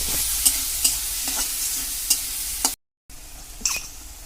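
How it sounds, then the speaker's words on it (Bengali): Potatoes with onion and spices sizzling in hot oil in a kitchen pan for a crab dish, a steady close frying hiss punctuated by sharp spatula scrapes and stirs, with a brief dropout near the end. "সব দিয়ে এবার আলুটাকে আমি কষাবো"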